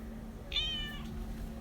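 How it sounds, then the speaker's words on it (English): A single short, clear meow from a cat a little way off, over a steady low hum, with no talking. "Oh, I heard him meow"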